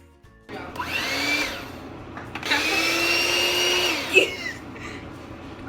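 An electric mixer whirs through softened butter in a bowl for Easter cookies, two loud sustained motor runs with a brief pause between, the pitch shifting as the speed changes.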